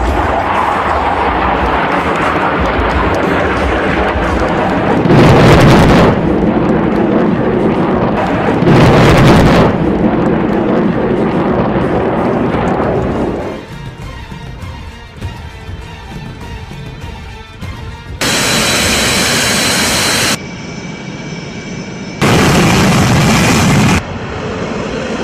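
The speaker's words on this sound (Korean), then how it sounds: "F-16 전투기 편대가 MK-82 항공탄으로 적기계화 부대를 타격하겠습니다." Heavy explosions from MK-82 aerial bombs dropped by a formation of F-16 fighters striking an enemy mechanized unit during a military firepower demonstration, several loud booming blasts spaced apart over rumbling jet and background noise.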